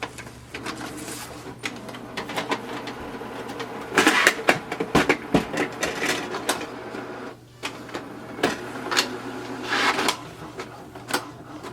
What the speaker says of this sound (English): Now we can press print, and it will send a command to the printer